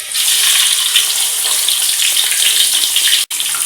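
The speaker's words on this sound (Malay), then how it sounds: "Kita frykan kita punya ayam kita punya chicken kita. So we fry." Steady, dense sizzling of chicken frying in hot oil, loud and close throughout with no voices.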